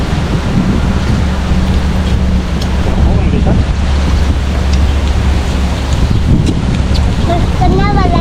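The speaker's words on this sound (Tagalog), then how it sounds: "Grabe hangin." Strong wind buffets the microphone by a calm sea, with surf and the hum of a boat under steady, loud gusts; people talk intermittently over the noise.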